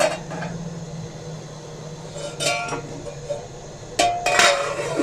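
Metal cooking pot and utensils clink and clatter while degi zarda (mutanjan) sweet rice is mixed, with a few sharp bright knocks against a steady low kitchen hum, fairly close.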